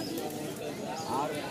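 Pigeons cooing at a busy pigeon market in Mirpur, soft coos mixed into a murmur of people talking nearby.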